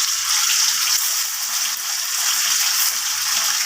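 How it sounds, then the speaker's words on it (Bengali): Steady, close hiss of food being lightly fried in a kadai, a dense continuous sizzle that stays even throughout with no talking. "আর একটা কড়াতে এটা ভেজে নিলাম, হালকা ভেজে নেব"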